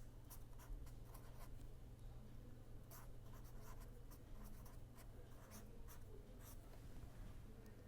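Chalk or marker scratching and tapping steadily across a lecture board as equations are written, faint and continuous over a low hum in a quiet room.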